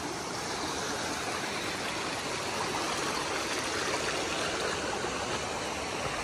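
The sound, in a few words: mountain stream with a waterfall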